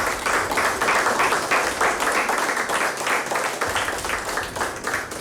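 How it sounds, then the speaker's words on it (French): Sustained applause from an audience on a French beauty-contest show, many hands clapping steadily and densely for the whole stretch, loud and even with no pauses. "je demanderai à vos consoeurs de vous applaudir"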